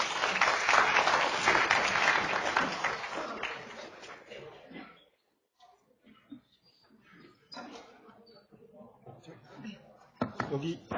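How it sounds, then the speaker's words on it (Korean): An audience at a Nobel Prize lecture applauds as a chemistry professor is introduced, a burst of clapping that fades within a few seconds, followed by quiet room sounds and scattered speech. "큰 박수 부탁드립니다"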